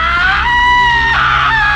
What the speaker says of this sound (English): The wraith let out a deafening scream as its form began to dissolve.